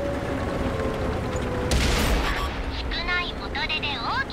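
A tank cannon shot from an E50 strikes the side of a heavy tank in World of Tanks on PS4, a loud booming impact around the middle, followed by mechanical game sounds while a voice talks.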